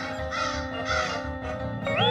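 Several crows cawing close by in harsh, repeated calls over a steady background hum, with one louder rising caw near the end.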